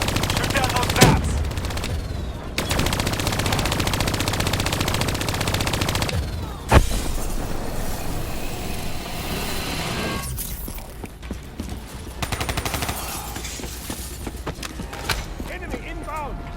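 Gunfire in Call of Duty Black Ops III, with bursts of shots and sharp blasts over a dense, loud game mix, while voices talk over the action throughout.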